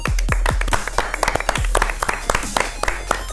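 Several sharp hand claps ring out in an irregular burst, close and loud, with a hum of room noise behind them.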